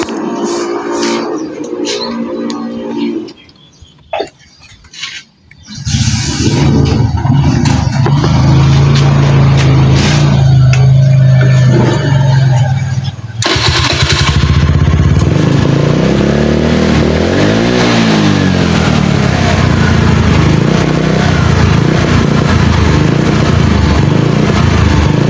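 A motorcycle engine that runs rough and misfires after a part is tightened back in place. It rumbles loudly and close with uneven revs, starting after a brief quieter stretch with a few sputters.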